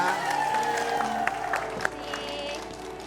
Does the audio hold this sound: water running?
no